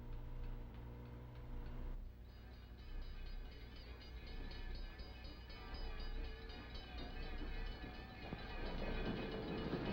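A train approaches on rails in a 1954 film scene, a steady rumbling and rhythmic clickety-clack with a tonal hum that grows slightly louder toward the end, with no talk over it.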